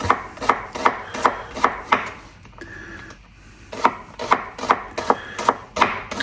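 A knife slices vegetables on a cutting board in a steady run of crisp, close chops, pauses briefly, then resumes at the same even rhythm.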